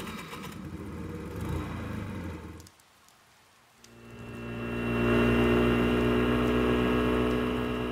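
A small scooter engine in Persona 4 Golden hums over falling rain in a neighborhood, drops away briefly, then revs back up into a steady, louder drone.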